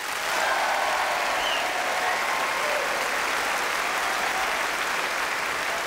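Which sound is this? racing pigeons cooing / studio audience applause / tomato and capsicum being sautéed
studio audience applause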